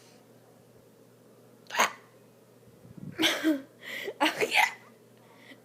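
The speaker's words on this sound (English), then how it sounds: "And these are my real hiccups, and they're not fake at all." A person's real hiccups come as a few sharp, brief vocal jerks spaced over several seconds, close to the microphone, with a short spoken exclamation mixed in among them.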